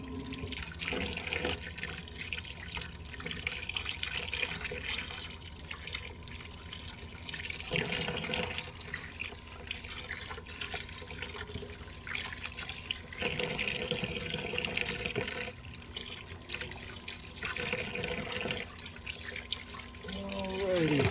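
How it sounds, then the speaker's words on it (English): Vegetables rinsed under an outdoor sink tap on a homestead: running, splashing water pours steadily throughout, with a person talking over it at moments. "I'm going to wash off my veggies here."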